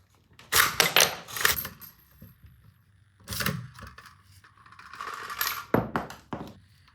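Dummy rifle rounds eject from a gas-operated bolt action with sharp metallic clinks and clatters in several quick bursts, each a bright rattling impact, close and fairly loud with quiet gaps between.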